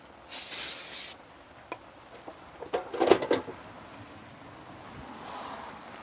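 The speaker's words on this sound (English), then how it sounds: "just to be safe, it's always good to give it a spray" An aerosol spray is aimed at the brake rotors of an Audi during a home brake job, giving a loud, steady hiss for about a second, followed by a few fainter clicks and rattles of handling nearby.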